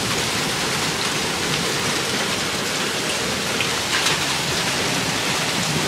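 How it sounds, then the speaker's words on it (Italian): Summer hail pelting down in a dense, continuous hiss and patter, loud and close, with no pauses or voices. "Io sto parlando di grandine."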